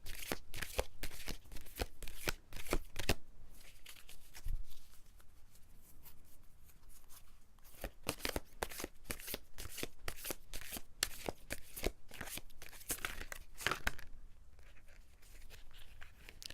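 A deck of tarot cards being shuffled by hand, with a steady run of crisp, close riffling bursts and brief pauses between them, no voices present.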